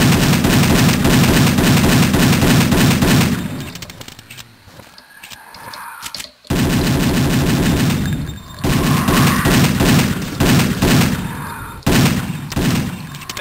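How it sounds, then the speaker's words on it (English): Rapid repeated gunfire bursts in Doom 2, dense and loud, with a brief lull midway before the shooting resumes in sustained volleys. "Let's get our pistols out here."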